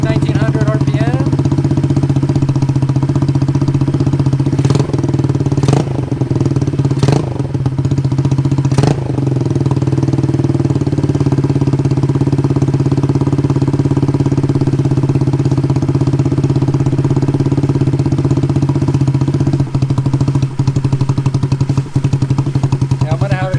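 A Honda Ruckus scooter engine idles at 1900 RPM, loud and close, in an even continuous thrum with a few sharp clicks early on.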